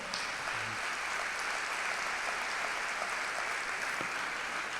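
A church congregation applauds during a sermon, a dense and even wash of many hands clapping throughout, fairly distant and without pauses.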